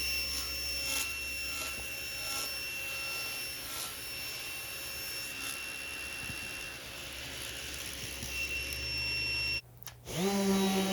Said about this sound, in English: After that, I sanded the backs, or the inside of them.